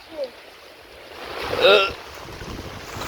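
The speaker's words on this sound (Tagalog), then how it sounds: "malakas ang hangin talaga" Strong wind buffets a boat at sea, a steady hiss of gusting air and water rushing around the hull, rising into a louder gust midway before settling back, with a faint voice briefly present.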